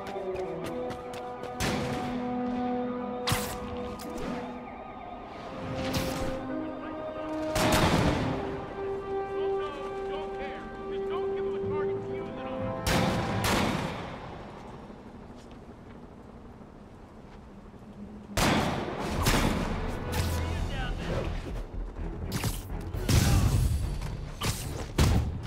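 Sniper fire in Marvel's Spider-Man Remastered: loud, sharp gunshot cracks at irregular intervals, some paired, echoing with booms over a droning game soundtrack and steady background ambience.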